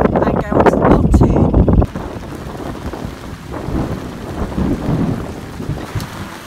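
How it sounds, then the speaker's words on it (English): Heavy rain pounding down in a thunderstorm aboard a sailing yacht at anchor in the Ionian, a dense roar with wind buffeting the microphone, loudest at first and then a steady wash. "So what do you do when the rain just comes down like that?"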